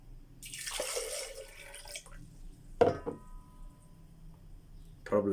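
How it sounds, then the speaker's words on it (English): Water poured into a blender jar fitted with a simple seal, a broadband splashing pour for about a second and a half, followed by a few sharp clunks and faint knocks; no talking. "We're just gonna pour the water again and see."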